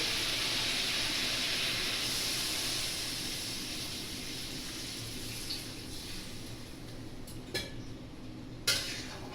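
Water pours into a cooking pot holding bottle gourd, prawns and rohu fish, producing a steady hissing rush that fades gradually, followed by a few light clinks of utensils.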